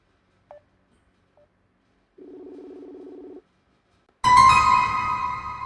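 A mobile phone placing a call: a couple of faint key beeps, then a steady ringback tone lasting about a second, then a louder burst of rich, ringing tones near the end.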